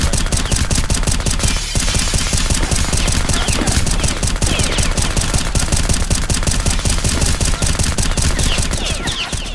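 Dense, nonstop automatic gunfire from a video game fills the whole stretch, loud and rapid with overlapping bursts and barely a pause, no voices heard.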